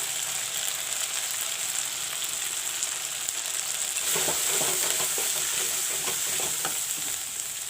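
Ginger garlic paste frying in a pan for an arbi (taro root) curry, a steady, close oil sizzle throughout with a louder burst of crackling and stirring scrapes in the second half.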